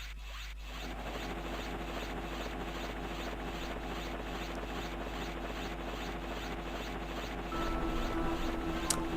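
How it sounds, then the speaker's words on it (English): In the Mega Man Zero video game, an approaching transport helicopter makes a steady, rapid rotor chop that swells slightly louder near the end, with no speech over it. "Their transport chopper is rapidly approaching"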